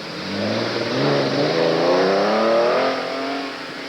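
A 1979 Dodge Aero GT at an autocross event revs hard through its gears, the engine note rising and sweeping upward over several seconds, loud and close, with no talk over it.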